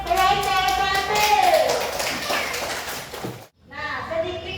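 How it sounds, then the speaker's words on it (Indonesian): A classroom of children claps for a group, a dense steady patter of many hands with young voices chattering over it, cutting off abruptly before talking resumes. "beri tepuk tangan untuk kelompok 1"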